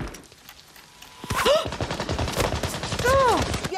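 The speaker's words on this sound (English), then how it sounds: "why do they keep shooting him up like that?" Gunfire from the war film Saving Private Ryan: rapid bursts of shots, dense and loud, clustered through the second half, mixed with battle noise and some voices.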